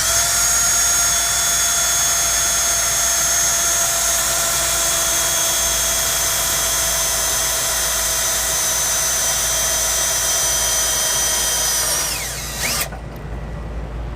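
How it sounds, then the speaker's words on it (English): A power drill whines loudly and steadily for a long stretch, close up, drilling a pilot hole in the steel frame of a 1988 Toyota 4Runner, then winds down and stops near the end. "We're going to use a few different drill bits because this frame is a little bit thicker"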